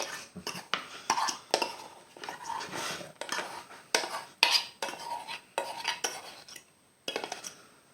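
Black mustard leaves being worked into flatbread dough in a bowl, a run of close, uneven clinks and scrapes of a utensil against the bowl in quick bursts.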